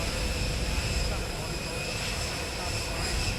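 Air Force One, a jet airliner just landed at Palm Beach International Airport, roars with a steady loud engine whine and broadband rush that fills the scene without pause.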